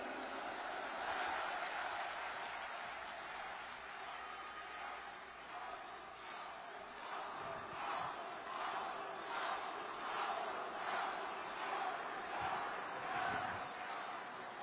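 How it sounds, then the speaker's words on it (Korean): Large crowd at an outdoor presidential campaign rally in Busan cheering and applauding, a distant sustained roar with swelling waves of clapping, faint overall. "여러분 뜨거운 박수로 맞이해 주시기 바랍니다"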